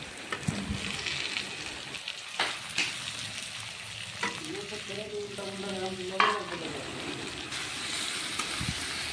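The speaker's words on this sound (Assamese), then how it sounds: "দিয়াৰ পিছত এতিয়া গোটেইখিনি লৰাই দিছোঁ ধুনীয়াকৈ।" Chicken pieces with potatoes and ash gourd are stirred in a hot wok, a steady sizzle broken by scraping strokes of the spatula and a few sharp clinks, no talking.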